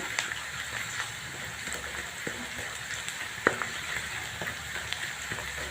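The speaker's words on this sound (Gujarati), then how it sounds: "ડુંગળી શેકાવા માંડી છે" Sliced onion frying in oil with ginger and garlic for a cowpea curry, a steady close sizzle with a few soft clicks of stirring, with no talking.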